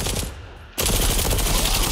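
A sudden burst of rapid automatic gunfire erupts from the online shooter game Zula, cutting in sharply after a brief lull and continuing densely and loudly to the end.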